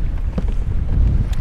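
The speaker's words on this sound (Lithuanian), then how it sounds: "kaip neblogai pučia vėjukas" Wind blowing over the open ocean while kayaking, with waves splashing; a steady, close, rumbling gust buffets the microphone throughout without pause.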